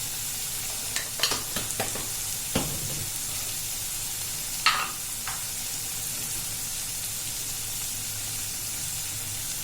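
Spices for chole masala, including Kashmiri red chili powder with a splash of water, sizzle steadily in a pan while being stirred, a continuous frying hiss broken by a few spoon scrapes and clinks, close and without talk.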